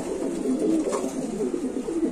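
Pigeons at a market stall keep up a continuous, soft, low cooing, several birds overlapping close by with no pauses.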